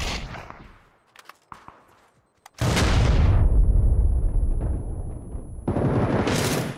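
A C4 explosive goes off in the shooter game PUBG, a huge close blast that roars on and then trails off, followed by a second loud burst. Faint clicks and taps come before it.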